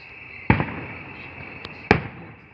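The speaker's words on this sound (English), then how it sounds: "Camera's missing out on all the fireworks." Two sharp firework explosions at a fair and rodeo, each a loud sudden boom about a second and a half apart, with a faint pop between them over a steady high background hiss outdoors.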